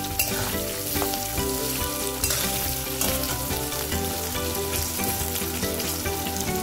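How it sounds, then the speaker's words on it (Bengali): Potato pieces coated with turmeric fry in hot oil in a pan, a loud, dense, continuous sizzle close by, with stirring scrapes now and then and no talking. "আলুগুলোতে অল্প একটু হলুদ দিয়ে আবার সেই একটু ভাজা ভাজা করে উঠিয়ে রাখবো।"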